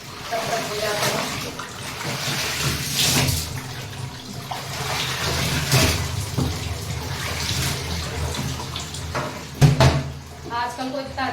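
A tap runs slowly into a bucket for washing clothes by hand in a home, a thin trickle and splash under someone talking in Hindi, with a few clunks and bumps of containers.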